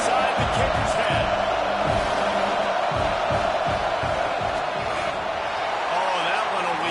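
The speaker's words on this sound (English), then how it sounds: "This crowd trying to do its part to get inside the kicker's head." A packed football stadium crowd roars continuously and loudly during a field goal attempt at Ohio State vs Michigan, a dense wall of cheering and yelling with scattered thuds and no break.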